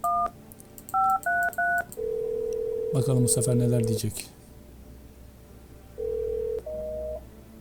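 Touch-tone dialing beeps in the video game No I'm Not a Human come in short bursts, then a dense warbling ring and two later electronic tones, with a voice speaking briefly over them.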